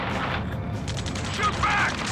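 Rapid gunfire in the Ace Combat 7 video game crackles steadily at moderate distance under shouted radio chatter from soldiers.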